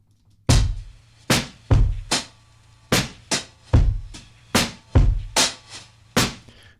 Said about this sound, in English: which adds a whole lot of low end, a whole lot of beef to our original drum sample.